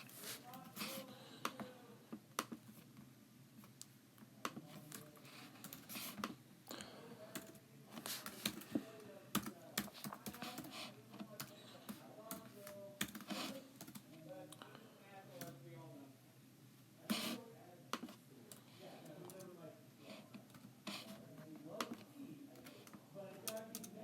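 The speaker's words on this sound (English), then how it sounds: "Let's type this into Google Calculator." Typing on a computer keyboard into an online calculator, with rapid uneven clusters of close key clicks and pauses, continuing under a person talking.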